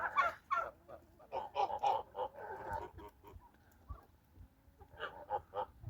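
Wild geese honk and cackle in a farmyard, a run of nasal calls in clustered bursts with short gaps, fairly near but modest in loudness, with no speech.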